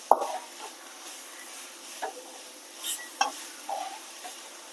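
Ginger garlic paste frying for chicken biryani gravy, a low steady sizzle broken by a few sharp spoon scrapes and clinks against the pan, close and fairly faint.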